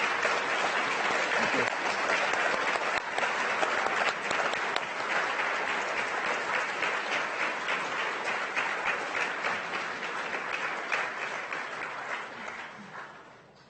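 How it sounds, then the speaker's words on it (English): Audience applause for panelists at a live event, a long, full, sustained roar of clapping that slowly fades toward the end, with a brief spoken thanks underneath. "Would you give our amazing panelists a round of applause?"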